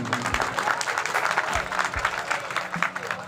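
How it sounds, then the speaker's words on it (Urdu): Audience at a housing society launch event in Lahore claps steadily, a dense, continuous round of applause with a few voices mixed in beneath. "ان کے لیے ایک تالیاں آپ سب نے لگا دیں گے"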